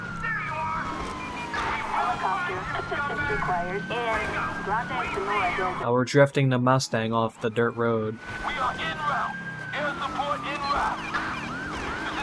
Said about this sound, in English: this new siren is so good. It's the We Can't Exit siren.